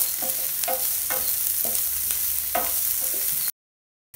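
Chopped onion sautés in hot oil with ginger and garlic for soya chunk Manchurian, a loud continuous sizzle broken by rhythmic spatula scrapes about twice a second, then it cuts to silence.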